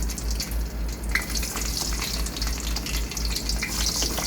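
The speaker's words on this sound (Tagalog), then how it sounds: "Ipiprito na natin to sa mantika." Oil sizzles and crackles steadily as eggplant fries in a pan, with a low continuous hum underneath.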